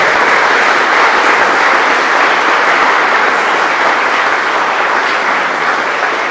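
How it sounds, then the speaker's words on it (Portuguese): A church congregation claps loudly and continuously in praise of Jesus, a thick, even wash of applause filling the room without speech. "Vamos dar uma salva de palmas para Jesus que ele merece."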